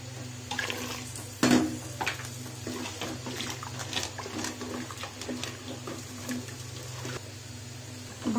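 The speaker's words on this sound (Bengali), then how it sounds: "এই পর্যায়ে এখন আমি পানিটা অ্যাড করে নিচ্ছি।" Water is poured into a pot of fried rice for plain pulao, a steady liquid splash with a few louder gushes over a low hum.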